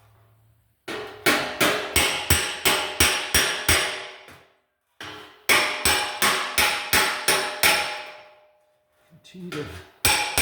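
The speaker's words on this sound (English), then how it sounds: "I'll take my hammer and my slapper and dolly, and with the dolly underneath there" Hammer and slapper striking sheet metal over a dolly while reshaping a Fiat 500 quarter panel: two sharp, evenly paced runs of ringing metallic blows, each a rapid series of loud, close hits, separated by brief pauses.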